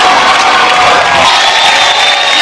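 A studio audience at a comedy award show claps and cheers loudly, a dense continuous roar of applause with whoops, close and filling the short stretch.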